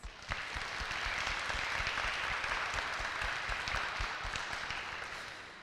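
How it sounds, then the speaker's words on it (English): A symposium audience gives a final round of applause, a continuous spread of many hands clapping, heard at a distance and fairly faint, holding steady before tapering off. "If we can give them one last round of applause."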